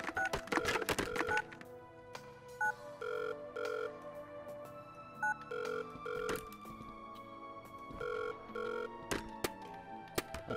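An in-game telephone in the surgery video game Surgeon Simulator rings in repeated electronic double tones, loud and close, with bursts of clattering impacts at the start and end and no talk.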